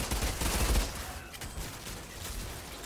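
Rapid bursts of gunfire in the video game Outriders, dense and loud, with a heavier volley early on followed by steadier popping shots.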